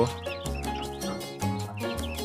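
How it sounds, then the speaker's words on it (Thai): Muscovy ducklings, about forty of them, chirp in a pen with steady overlapping calls in repeated bursts, close and fairly loud. "ลูกเป็ดน้อย"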